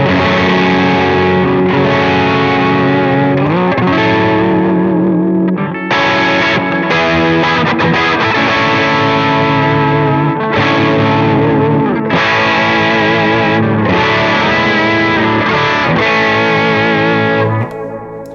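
Electric guitar played through a Horse Cult distortion pedal with its bass switch down, giving a loud, continuous driven tone with thinned low end, a run of sustained chords and riffs broken by brief pauses.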